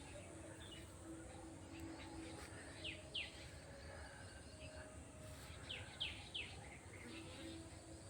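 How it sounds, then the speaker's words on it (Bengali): Birds chirp faintly in a quiet, deserted place: two short bursts of high twittering a few seconds apart rise above a low, steady background hiss. "এই জায়গাটা মুখরিত হয়ে ওঠে পাখিদের কলরবে।"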